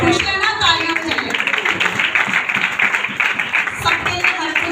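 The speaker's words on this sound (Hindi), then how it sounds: "खुश रहना, तालियां बजाइए।" Church audience applauding at a Mother's Day service, a loud, close burst of dense clapping lasting several seconds, with voices mixed in beneath.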